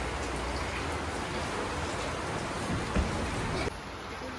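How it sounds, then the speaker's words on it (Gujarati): Heavy rain pours down outside, a steady, dense hiss that stays even and fairly close throughout, with a faint knock partway through. "બહાર તો એકદમ ફૂલ વરસાદ ચાલુ થઈ ગયો"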